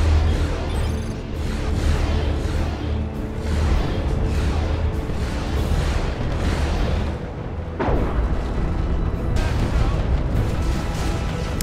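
Dense, continuous battle din from a Dawn of War II: Retribution multiplayer match, with repeated booming autocannon fire layered over rumbling explosions at steady loudness, plus a sharper blast near the eight-second mark.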